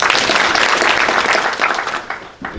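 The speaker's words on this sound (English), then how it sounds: "Let's clap for Professor." Audience applause fills a university public-lecture hall at Chuka University, a dense roar of clapping that holds steady, then thins and tapers near the end with a few scattered claps.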